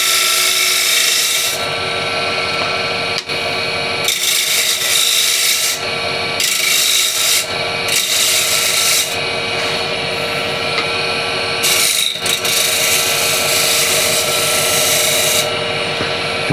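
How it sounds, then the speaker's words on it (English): Wood spinning on a lathe while a tool trims down its diameter: a loud, steady rasping scrape running almost the whole time, broken by several brief pauses where the cut lifts and resumes. "what I'll do from the other side is just trim down the diameter"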